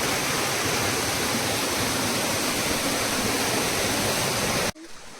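Loud, unbroken roar of a nearby waterfall in Konkan's Kudpan village, a dense rushing wash that cuts off abruptly near the end, leaving quiet ambience.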